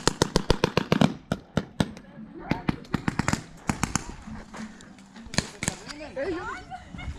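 Paintball guns fire in an outdoor gotcha match, a rapid string of sharp close pops at the start, then scattered single shots, with players shouting in between.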